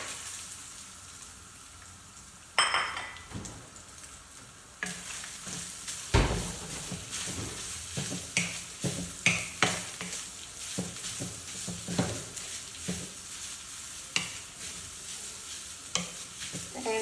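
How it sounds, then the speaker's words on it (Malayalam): Coconut fries in ghee in a pan while a spoon keeps stirring it, giving a steady sizzle with repeated scraping strokes and taps. The sound is close and grows busier after a quieter start, with no talking. "നെയ്യ് ഒഴിച്ചിട്ട് തേങ്ങ വറുക്കണം."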